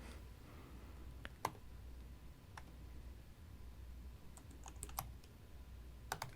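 A few scattered computer keyboard keystrokes are typed while entering a command for an ESP8266 Wi-Fi deauther. The clicks are faint and sparse over a quiet hiss, with a small cluster near the end.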